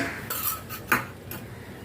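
A spoon stirs a kokum and jaggery curry mixture in a pot, giving a few quick metallic scrapes and clinks close by over a short span, with no talk.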